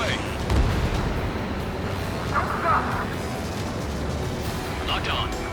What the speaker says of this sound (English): Strider 1, missile away.